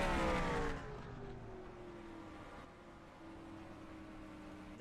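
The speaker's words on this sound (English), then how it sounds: "downshift the car." Race car engine in a racing video game dropping in pitch as it decelerates and downshifts, then settling into a steady lower drone, fairly quiet with no talking.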